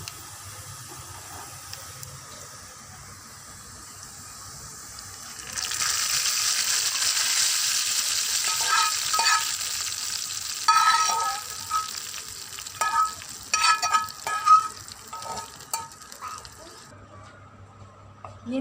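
A sudden loud hiss of hot tempering oil poured onto cooked whole pink lentils starts partway through, sizzling steadily, then breaking into crackles and pops as it settles.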